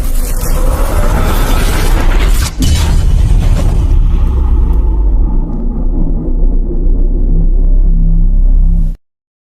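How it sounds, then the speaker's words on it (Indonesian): Thunderous lightning-strike explosions used as a dramatic story sound effect: a loud, continuous booming rumble with a sharp crack partway through, sustained heavily until it cuts off abruptly near the end. "Ledakan dahsyat dari serangan petir semakin ekstrim terus bergema, mengguncang kawasan tersebut dengan hebat."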